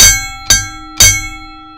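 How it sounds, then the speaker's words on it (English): A real hand bell struck three times in quick, even succession to close a wrestling talk show; each loud, close ring decays before the next strike. "Ooh, it's a real bell,"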